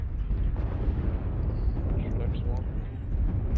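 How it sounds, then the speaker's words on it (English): Artillery strike explosions in the MechWarrior Online video game make a loud, dense, continuous rumbling roar of overlapping booms for a few seconds. "You saw some red smoke and then explosions happening around the place. That's known as an artillery strike."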